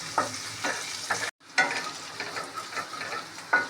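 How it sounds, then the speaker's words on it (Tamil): Boiled, peeled potatoes frying on low flame with crushed ginger and garlic for dum aloo biryani, a continuous close sizzle broken by repeated stirring scrapes and a brief pause partway through. "வேக வச்சு உரிச்ச உருளைக்கிழங்கு போடலாம். லோ ஃப்ளேம்லேயே வச்சு பண்ணுங்கள்."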